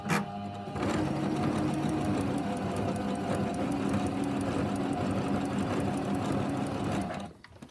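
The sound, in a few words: sewing machine stitching quilt binding diagonal line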